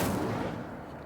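Incendio fire spell cast in Hogwarts Legacy: a single loud whooshing burst of flame with a heavy low rumble that quickly fades over about a second.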